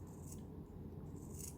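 Scissors snip through fabric, trimming the seam allowance beside a backstitched seam on a sewn arm piece, with two crisp cuts standing out over a low, steady rustle and no voices.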